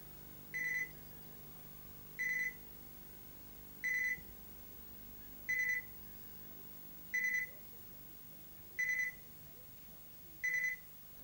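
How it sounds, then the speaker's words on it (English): An electronic ankle bracelet alarm beeps seven times at a steady pace, each a short high electronic tone roughly every second and a half, fairly faint against a quiet room background. "It triggers an alarm each time he leaves his home."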